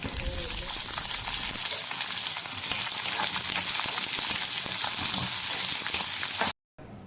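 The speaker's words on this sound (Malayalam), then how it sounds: "കറിവേപ്പിലയും പച്ചമുളകും ചെറിയ ഉള്ളിയും ഇട്ട് ചെറുതായി വഴറ്റിയെടുക്കുക" Curry leaves, green chillies and shallots sauté in a hot pan with a steady, loud sizzle, a dense crackling hiss that runs continuously before cutting off abruptly near the end.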